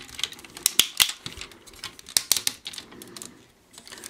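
Plastic parts of a Transformers Universe 2.0 Ultra Onslaught figure click and snap as they are folded and rotated, a series of sharp close clicks in uneven bursts, then a brief quiet.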